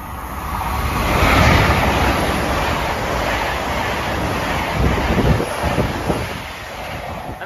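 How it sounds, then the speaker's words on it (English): A Great Western Railway Class 802 train, a Penzance to London Paddington service, passes through Pewsey station with a loud rushing roar, gusty wind buffeting the microphone and rattling wheel noise late in the pass. "Passing through now is a Great Western Railway service from Penzance to London Paddington."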